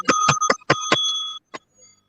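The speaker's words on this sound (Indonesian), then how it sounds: "Nabi Jibril tadi ada bunyi lonceng tadi ya, kasih wahyu sama aku" A bright metallic bell rings in a quick series of about six sharp strikes, each with a ringing overtone, followed by one last strike and a short fading tail.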